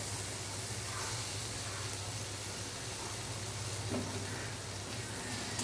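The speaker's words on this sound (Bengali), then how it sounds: "এখন কুমড়োটা খুব ভালো মতো ভাজা হয়ে গেছে।" Pumpkin pieces fry in a pan with a soft, continuous sizzle and hiss, quiet and unbroken, with no voices over it.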